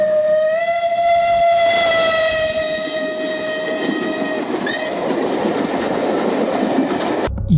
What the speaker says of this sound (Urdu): ٹرین میں سوار ہوئے اور سفر شروع ہوئی پشاور کی طرف۔